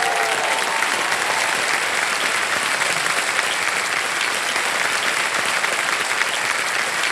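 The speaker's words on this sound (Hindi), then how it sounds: "तो एक बार फिर जोरदार तालियां बज जाएं विराट के लिए।" Studio audience applauding steadily on a televised quiz show, a dense, loud, unbroken wash of clapping that holds at an even level throughout with no voices standing out.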